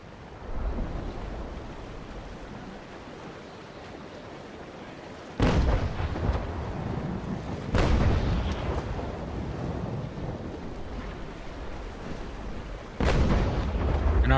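Ship cannon broadsides in the naval combat game Naval Action boom out in three heavy, loud bursts over a steady backdrop of sea wash and wind, with the first volley rolling on longest.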